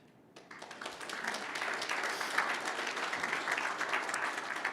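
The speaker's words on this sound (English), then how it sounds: "it's worthwhile to give a quick round of applause for the companies among us here who helped to fund the project" Conference audience at an open-source software project's opening remarks bursts into applause after a brief quiet start, quickly swelling into sustained, fairly distant clapping that stays level and dense until the end.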